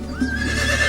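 A horse whinnies in a single close, loud call lasting about a second, set against a steady background hum.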